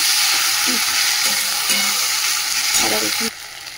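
Ginger and garlic sizzle steadily in hot oil in a pan, with a loud, continuous frying hiss and occasional stirring scrapes before the sound drops off near the end.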